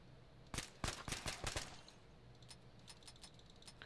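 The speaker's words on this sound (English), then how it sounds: "I can hear your gun jamming louder than I can hear your gun fire." Rapid bursts of gunfire from Arma 3 crack loudly in a tight cluster over about a second, then give way to faint, scattered distant shots.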